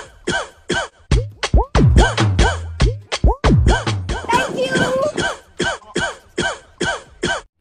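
Repeated coughing and throat clearing from several people in a social media trend, harsh bursts coming thick and overlapping before settling into a regular series of separate coughs.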